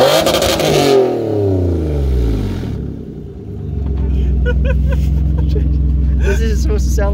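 A 2020 Chevy Spark with a newly fitted exhaust revs up and settles into a loud, steady rumbling idle close by, the engine note rising and falling before holding a deep drone.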